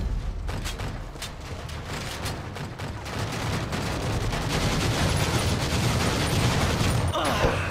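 Gunfire in the video game Battlefield 2: Modern Combat, with bursts of automatic fire and scattered shots layered over a dense, continuous battle din, fairly loud and close throughout.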